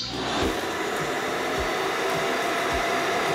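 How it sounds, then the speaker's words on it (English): A TP-Link Tapo RV30 Plus robot vacuum docked at its base, the auto-empty station drawing dust out with a loud, steady whooshing suction that runs unbroken throughout. "it can auto empty the dust after every cleaning"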